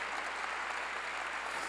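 Broadband wash of congregation clapping inside a church sermon, steady and continuous across the short span with no pauses or voices standing out.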